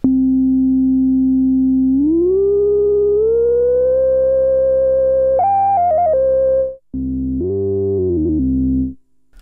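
A Minimoog Model D reissue with high filter resonance plays a loud, sustained tone with a strong resonant edge, sweeping upward in pitch in steps, then stuttering into choppy bursts before a brief gap and a final phrase.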